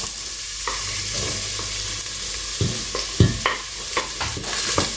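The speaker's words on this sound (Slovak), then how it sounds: "Takže ak máme zohriatý olej, začneme si smažiť cibulku." Onion frying in hot oil in a home kitchen pan, a steady close sizzle broken by a run of sharp stirring scrapes and clatters, with no voices over it.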